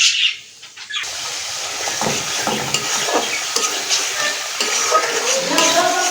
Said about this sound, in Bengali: মশলাটা আরেকটু ভালো মতন কষিয়ে নেব, তেল বের হয়েছে কিন্তু আরেকটু কষাবো